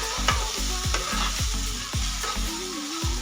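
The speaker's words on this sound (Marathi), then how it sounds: "ती अशा पद्धतीने तेलामध्ये टाकून घ्यायची आणि 1-2-3 मिनिटं ना छान आता ही परतून घ्यायची" Chana dal chutney mixture stirred and sautéing in hot oil in a pan, a steady close sizzle punctuated by repeated scraping strokes of a spoon, with no voices.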